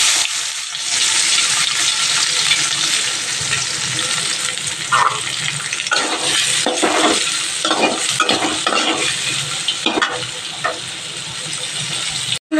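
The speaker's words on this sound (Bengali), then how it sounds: "তেলের মধ্যে দেখো এখানে গোটা গরম মশলা জিরে আর শুকনো লঙ্কা ফোড়ন দিলাম আর এই যে পেঁয়াজটা দিয়ে দেবো" Onion frying in oil with whole garam masala, cumin and dried red chilli: a loud, dense sizzle throughout with repeated spatula scrapes and stirring knocks, close up, no talking.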